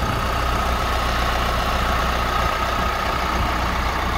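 A 2.8-liter turbocharged four-cylinder Duramax diesel in a 2017 Chevrolet Colorado 4WD idles steadily and close by, a continuous low rumble with diesel clatter and no talking.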